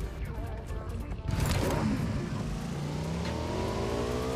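A buggy in the PUBG video game drives off, its engine revving up with a rising whine and steady roar after an abrupt start, close and loud throughout.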